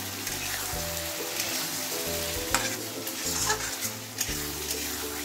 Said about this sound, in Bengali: আর এই গ্রেভির সাথে ভালো করে পনিরটা কষে নেব।